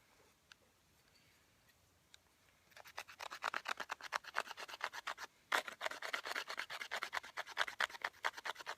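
Rapid rhythmic rasping of a multi-tool grinding a divot into a wooden bow drill board starts after a quiet pause, a close, steady scraping stroke repeated many times.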